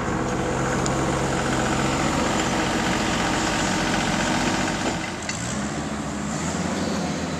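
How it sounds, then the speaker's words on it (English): A tractor engine idles nearby with a steady, loud diesel chug and rattle during road cleanup after flooding on the White River in Sharon, Vermont, dropping slightly in pitch and level toward the end. "who's just down here with his tractor helping to clean out the road"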